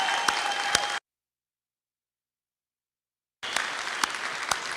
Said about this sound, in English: join me in a round of applause for our graduates